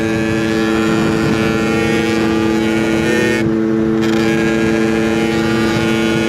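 A 2017 Rieju MRT Pro motorcycle engine running steadily up close, a loud, continuous harsh droning buzz with strong harmonic whine and a brief dip in the upper tones midway.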